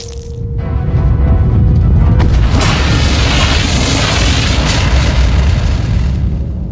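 A big cartoon explosion from the animated Sam & Max series, a loud blast that roars up around the one-second mark and then rumbles on as a long, dense, sustained boom with no talk over it.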